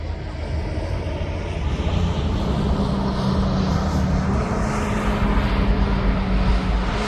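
Ryanair airliner approaching East Midlands Airport, its engines a steady, broad roar that swells slightly as it nears, with no talk over it.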